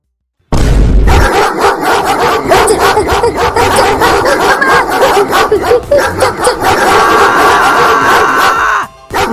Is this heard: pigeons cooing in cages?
no